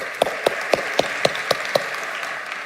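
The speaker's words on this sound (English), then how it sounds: "Please join me in giving a warm round of applause." Sparse, evenly spaced claps ring out at a panel session on global artificial intelligence, about seven sharp strikes in a steady rhythm over a faint room hiss, more like a few people clapping than full audience applause.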